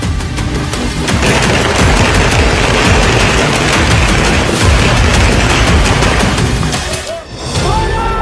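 Firecrackers burst densely during a Diwali celebration, a loud, continuous crackle of rapid overlapping bangs and booms that barely lets up, with a brief lull near the end before more bursts.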